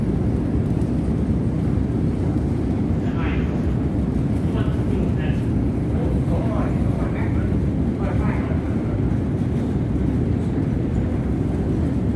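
A loud, steady rumble of a subway train in a station fills the whole stretch, with faint voices mixed into the noise.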